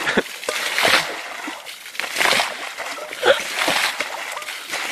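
Water pours and splashes out of a camping kettle at a forest spring, a rough, continuous splattering slosh with several heavier gushes, close by.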